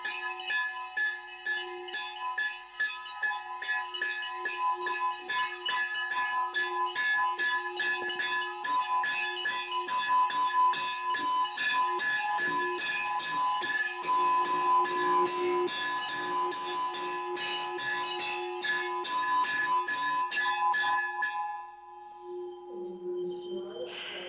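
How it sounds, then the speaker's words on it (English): Temple bells at Vishwanath Mandir ring continuously in rapid, overlapping clangs that sound close and sustained, then stop abruptly near the end as faint voices remain. "You can hear the bells, so probably you won't hear my voice anymore"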